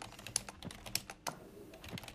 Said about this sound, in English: Well, you were typing.